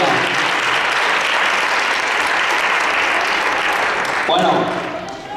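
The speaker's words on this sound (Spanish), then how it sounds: "vamos a dar un aplauso porque se lo merece" Sustained, dense audience applause at a Jaén carnival chirigota performance, loud and even for several seconds before fading toward the end, with some crowd voices mixed in.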